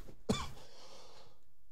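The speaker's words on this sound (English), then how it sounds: "Developing a little cough today." One short, sharp cough from a man, close to the mic, followed by quiet breathing.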